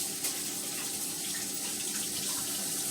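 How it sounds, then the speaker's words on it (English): A kitchen tap runs steadily while hands are washed, a constant close hissing stream of water lasting throughout with no talking. "Wash my hands,"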